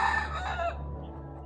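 A rooster's crow trails off near the end of its call, loud and close, fading into quiet farmyard ambience within about a second.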